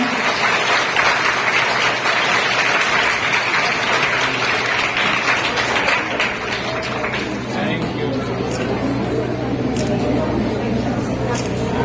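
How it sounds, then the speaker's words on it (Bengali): Schoolgirls clapping loudly at a school inauguration ceremony: a dense, even wash of many hands applauding that swells and then thins slightly, with voices murmuring underneath. "মেয়েরা জোরে করতালি স্যারের জন্য।"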